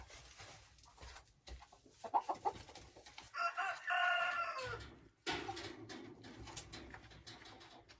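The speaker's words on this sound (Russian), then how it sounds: "Куры в основном на улице гуляют." Chickens in a backyard coop cluck and call, with a rooster crowing in the middle, moderately close among scattered rustling and soft ambient noise.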